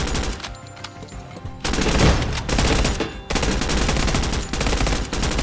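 Frag grenade blasts and gunfire in the tactical shooter Door Kickers 2: a quieter lead-in, then loud, dense bursts of sharp cracks and booms in rapid succession, broken by brief gaps.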